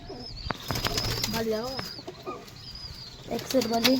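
Performing pigeons coo nearby in soft warbling calls, mixed with a few quick wing flaps and scattered chirps, with faint talking in the background.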